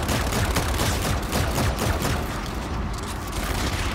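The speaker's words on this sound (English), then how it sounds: "I'm missing a bunch of shots right there" Volk Goliath gunfire in a video game, a dense, continuous burst of rapid shots and booms, loud and close, with no talk.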